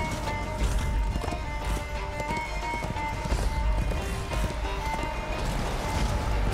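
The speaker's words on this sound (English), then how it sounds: "Oh, I see the horse." Hooves of a galloping horse in the video game Darksiders II pound in a quick, steady clip-clop rhythm, close and continuous over a game soundscape with no talking.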